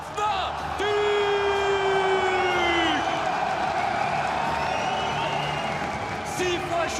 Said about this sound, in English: Un tonnerre d'applaudissements, s'il vous plaît, pour les Fnatic.